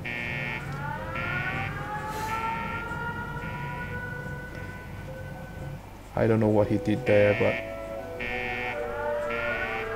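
Repeating electronic siren-like alarm in the vault shelter of Fallout Shelter Online, pulsing in regular bursts while someone talks over it, briefly joined by a louder cluster of tones partway through.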